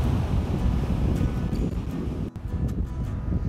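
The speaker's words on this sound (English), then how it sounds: "while it's a little windy here" Wind buffets steadily at Sugar Beach in Kihei, Maui, a loud continuous rush over the microphone with faint surf beneath and no talking.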